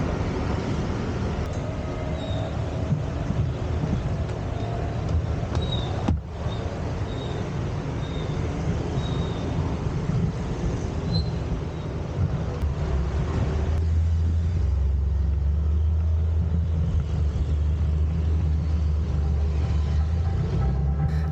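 Steady road traffic rumble heard from inside a moving vehicle on the way back to Cemagi, Bali, with a continuous low drone, passing vehicle noise and a brief drop partway through.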